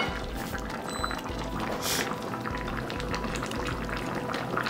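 Osso buco simmering in a pot, a steady bubbling and gentle liquid sizzle that stays constant throughout, close by, with one brief brighter burst in the middle.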